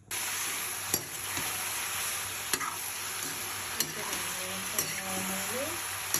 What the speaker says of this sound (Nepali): प्याज टमाटर कराईमा तेल हालिन्छ। अब यसलाई पकाउँछु